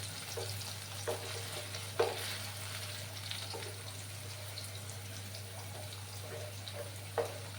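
Potato pieces fry in a pan for alu katli, a soft continuous sizzle with a low steady hum behind it and occasional light stirring knocks.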